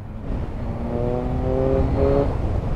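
A Triumph Speed Triple RS motorcycle engine revs up smoothly with a rising tonal whine, moderately loud, held briefly before easing off; no talking.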